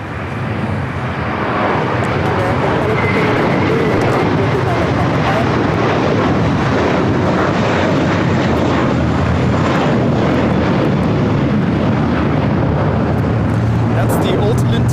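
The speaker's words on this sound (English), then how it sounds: "JetBlue A321 now taking off here on the south side" A JetBlue Airbus A321 airliner taking off at LAX on the south side, a broad, sustained engine roar with wind noise on the microphone and people talking over it.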